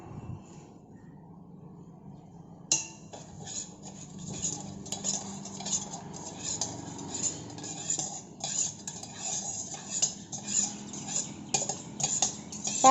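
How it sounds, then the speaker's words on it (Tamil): A spoon stirs sugar into freshly made tea in a glass, with quick, rhythmic metallic clinks against the glass that continue steadily and fairly close. "இப்போ சுகர் வந்து நல்லா கலக்கி விட்டுலாம்."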